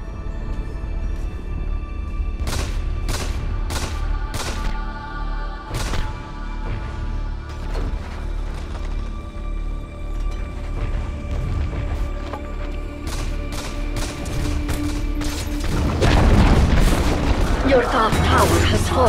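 Dota 2 match with a tower under attack: repeated booming impacts and bursts of crackling battle noise over a constant rumble, growing denser toward the end.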